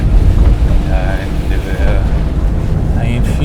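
Wind rushes and buffets the microphone as a Maruti 800 drives along a mountain road on a rainy day, a steady low roar close to the microphone with a person talking over it.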